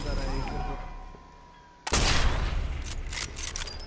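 A sniper rifle shot in the video game Sniper Elite 4, a sudden loud blast cutting in midway after quieter game ambience and talk, followed by a ringing, rumbling tail.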